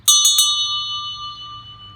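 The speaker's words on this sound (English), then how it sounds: "I have with me a school bell." An old hand-rung school bell rings three quick strikes close up, then its bright metallic tone rings on and slowly fades.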